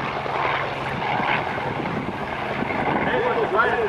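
An F4U Corsair propeller airplane performs at an airshow, its broadband engine and propeller drone steady and fairly loud throughout with wind buffeting, under a voice talking over it.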